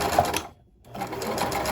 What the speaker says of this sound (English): do a back stitch to lock in your stitches, and then go forward